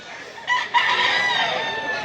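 A gamefowl rooster of a Dirty Grey Hats bloodline at a fowl seller in Mantalungon, Cebu crows once, loud and near, in a long rising-and-falling call that fills most of the moment.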